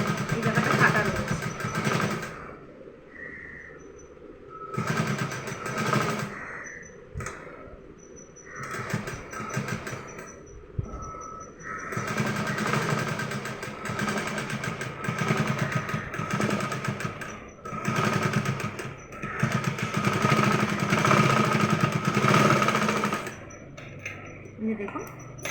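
A sewing machine stitches a heart shape onto a soft fabric teddy bear, running in long mechanical whirring bursts with short pauses between them, close and fairly loud.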